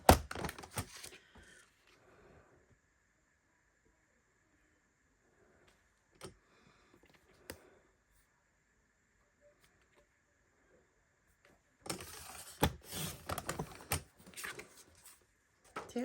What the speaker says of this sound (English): So let me get my trimmer and cut this apart.